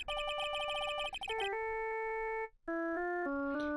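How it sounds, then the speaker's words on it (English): A phone ringtone from the Ace Attorney: Justice for All video game plays a bright, electronic, tonal melody of quick notes and then longer held tones, loud and alone. "And I bet it was this ringtone that caused it."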